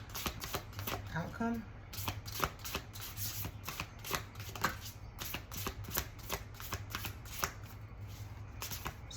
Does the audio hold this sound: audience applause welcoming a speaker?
no